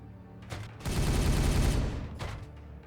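Gunfire in the video game Warhammer 40,000: Regicide, a dense rattling burst of shots lasting about a second, flanked by softer weapon sounds and battle effects.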